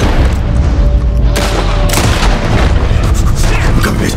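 Dense gunfire in Red Dead Redemption 2 rings out as loud booming shots and rapid bursts that blur into a continuous roar, with a sharp new volley crashing in midway.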